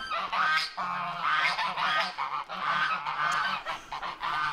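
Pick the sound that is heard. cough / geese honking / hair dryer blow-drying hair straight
geese honking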